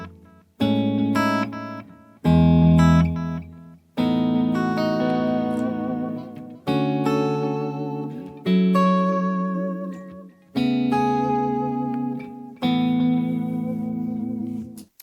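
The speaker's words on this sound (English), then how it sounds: "I've actually got a Dunlop Echoplex going through that just now, which I'll even just quickly put it on and you can hear it in action here." An electric guitar plays chords through a Dunlop Echoplex delay in the effects loop of a Blackstar HT20 MKIII amp, with reverb off. Seven loud, clear strummed phrases each ring out with repeating echo tails, and no voice is heard.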